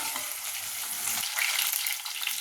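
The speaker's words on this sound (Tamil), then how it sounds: "இந்த எல்லா இன்க்ரீடியன்ஸும் நல்லா ரோஸ்ட் ஆகணும்" Close, steady sizzling of spices and curry leaves frying in hot oil in a pan, a dense crackling hiss with occasional stirring scrapes.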